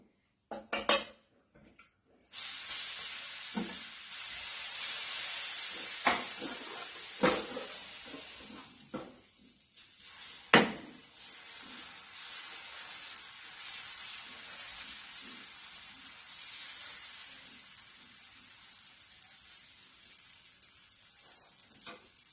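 Fasting dosa roasting on a hot pan gives a loud, steady sizzle and hiss, with a few sharp clinks and scrapes of a utensil against the pan near the start and middle.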